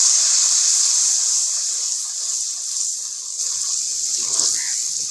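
Water splashed into a hot pan of browned garlic, ginger and onion gives a loud, steady sizzling hiss that carries on for several seconds with slight crackles.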